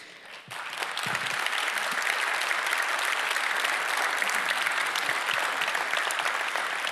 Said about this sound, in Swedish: Applåder på fel plats